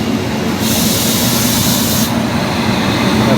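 Amrit Bharat train running through Rajahmundry station, a steady loud rumble and hiss with a brighter airy rush that swells in the middle and fades, continuous with no speech.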